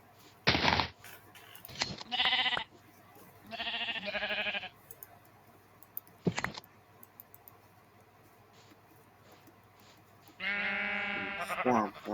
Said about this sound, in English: We have found a black sheep.